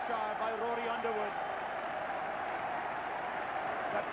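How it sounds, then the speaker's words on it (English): A rugby crowd at a 1987 Yorkshire versus Middlesex match roars and applauds after a try, forming a continuous wash of cheering that holds steady under a commentator's voice. "The crowd on their feet."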